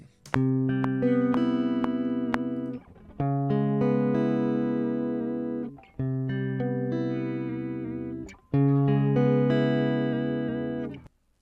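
Playback of a dry electric guitar take recorded to a 120 BPM metronome: four held, ringing chord phrases separated by brief pauses, steady and fairly loud, with soft ticking clicks and no talking.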